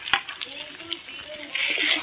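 Onion and garlic paste sizzles in a pot on a clay stove while being stirred, a bright frying hiss rising toward the end with spoon scrapes and a sharp knock near the start; some voices murmur in the background.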